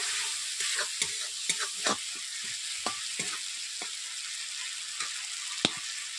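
Spices sautéing in a pan for a vegetarian aloo and barbati (long bean) curry, with a continuous bright sizzle and frequent scraping stirs of a spatula, close and clear, no speech.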